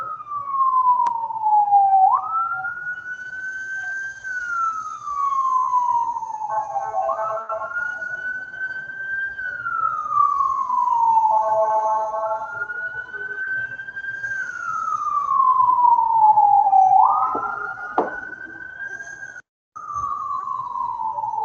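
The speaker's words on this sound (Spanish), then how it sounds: "Vamos a esperar que pase la ambulancia," A passing ambulance siren wails, rising and falling in long, slow sweeps, loud and continuous for the whole stretch, with no voices.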